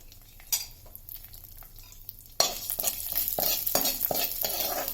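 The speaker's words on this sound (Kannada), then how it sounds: "ಮೆಂತ್ಯ, ಉದ್ದಿನಬೇಳೆ ಇಷ್ಟನ್ನು ಫ್ರೈ ಮಾಡಿ." Fenugreek seeds and urad dal frying in ghee for pineapple pachadi, a soft crackle that jumps to a louder, busier sizzle halfway through, with repeated spoon stirring and scraping close by and no talk.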